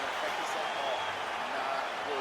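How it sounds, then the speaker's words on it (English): A UFC arena crowd cheers and applauds after the end of round one, a diffuse, fairly faint roar of many voices and clapping heard at a distance. "So the crowd voicing its appreciation after that round."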